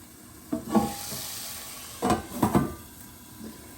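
Mackerel cooking in a hot pan, with a few scraping stirs and pan knocks at the start and again around the middle, all over a low steady sizzle. It sounds close by with no talking.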